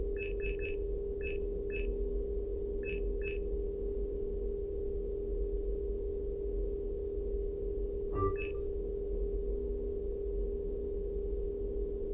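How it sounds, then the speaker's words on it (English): Mass Effect 3's private messages terminal sounds its notification chime: clusters of short, bright electronic beeps repeating at the start and once more later, over a steady low hum of ship ambience. "A new notification is available on the private messages terminal."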